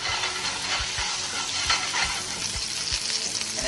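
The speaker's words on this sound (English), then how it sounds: "we're going to toast a little bit of chopped garlic" Chopped garlic toasting in a pan for a ramen stir fry, a dense, steady sizzle and crackle with a few soft stirring knocks, close and continuous.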